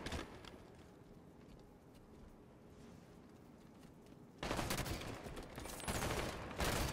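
Gunfire in the video game Halo 5 Guardians during a SWAT match: dense rapid bursts fill the second half loudly after a quieter stretch of softer game noise.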